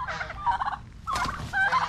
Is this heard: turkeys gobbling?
yes